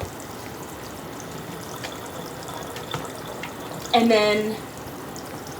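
Running water rinses a dog during its bath, a steady soft hiss of spray throughout, with a brief spoken voice partway through.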